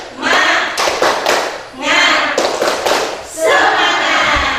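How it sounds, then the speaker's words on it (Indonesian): A classroom of students stands and performs a rhythmic spirit clap, tepuk semangat, in three loud bursts of patterned clapping and thumping, with brief pauses and some voices between bursts. "Tepuk semangat."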